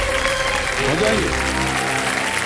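A studio audience on a televised quiz show claps in a short burst of applause for a contestant, mixed with a host's voice speaking over it.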